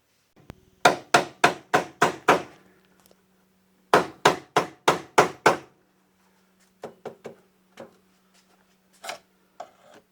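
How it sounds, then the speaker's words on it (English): Hammer blows knock out a small piece of MDF wood: two quick bursts of six sharp strikes each, then several lighter, spaced taps, loud and close with no talking. "we're going to have to knock out this little piece of wood so that that ear on the back of there can sit flat"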